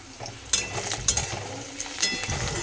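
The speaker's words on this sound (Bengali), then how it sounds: "পেঁয়াজটা অলরেডি ভাজতে দিয়ে দিয়েছি" Onions fry in a pan with a soft, steady sizzle, broken by a few sharp spoon clicks and scrapes, nearby and moderately quiet, with no one speaking.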